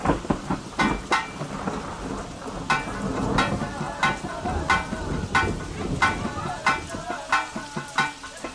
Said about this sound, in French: un orage se met à éclater